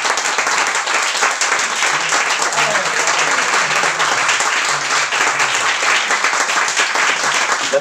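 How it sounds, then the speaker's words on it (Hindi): A college literary festival audience at a poetry competition breaks into sustained, loud applause, dense clapping from a large crowd continuing evenly throughout, with faint voices beneath. "आप लोग तालियां बजा दीजिए"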